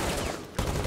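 Gunfire in the video game Rainbow Six Siege, a short dense burst of shots that briefly cuts out and resumes, loud and close.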